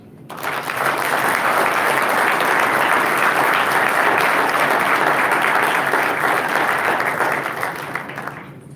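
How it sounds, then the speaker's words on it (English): A large banquet audience at a Boy Scouts service awards dinner bursts into sustained applause for sponsors, swelling quickly, holding strong for several seconds, then tapering off. "please join me in giving a rousing round of applause for all the sponsors"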